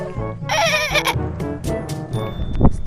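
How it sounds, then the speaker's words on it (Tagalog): A goat gives one loud, wavering bleat outdoors on Siquijor, followed by quieter background sounds and a brief sharp noise near the end. "Istoryaho na to ang kambing."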